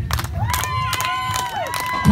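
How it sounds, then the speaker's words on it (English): Wrestling crowd at an outdoor festival in Michigan cheering and shouting loudly and continuously, with children's shrill yells rising above the din and scattered clapping mixed in. "Let's get a clap going, folks."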